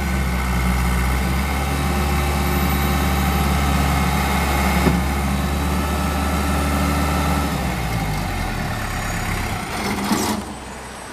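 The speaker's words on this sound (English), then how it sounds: "got that little Cummins engine in it" The small Cummins diesel engine of a Case 1845C skid steer idles steadily and close by, a deep low rumble with a constant drone and a few brief clanks near the end.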